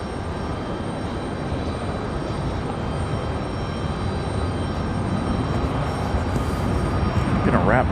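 A United Airlines Boeing 737 MAX arriving at Raleigh-Durham International, heard as a steady, loud broadband jet roar that holds throughout and swells slightly toward the end.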